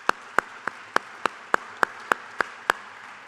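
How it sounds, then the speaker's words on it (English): Hand claps at a graduation ceremony come as a single steady train of sharp, evenly spaced claps, about three per second. They are close and distinct against a quiet background, with no voices. "let's give a round of applause to those guys too"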